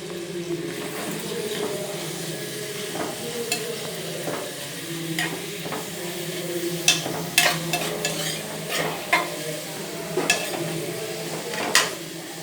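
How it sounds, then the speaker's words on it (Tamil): Three medium onions, sliced, are sautéed in a pan with a continuous sizzle under repeated stirring strokes and light clinks of the utensil against the pan, growing busier toward the end. "அதை நம்ம ஸ்லைஸாக வெட்டி இதில் போட்டிருக்கோம். இப்போ அதை நல்லா வதக்கணும்"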